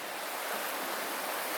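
A river running alongside a forest trail in Superior National Forest near Grand Marais, Minnesota, heard as a steady, broad rushing flow of water that is fairly loud and continuous, with no talk over it.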